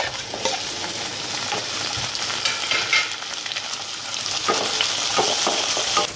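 Onions and tomatoes fry in a pan with a loud, continuous sizzle and crackle, broken by occasional stirring scrapes close by.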